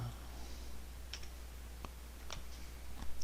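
A computer mouse clicked during image editing software work: a few sparse, faint, sharp clicks spaced about a second apart over a quiet room hum.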